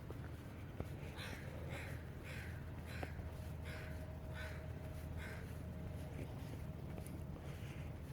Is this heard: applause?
no